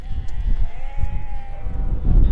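Tired sheep and lambs crossing dusty, barren farmland bleat with wavering calls over a low, rumbling background of movement, near and fairly loud.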